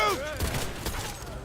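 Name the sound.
gunfire in the video game Cyberpunk 2077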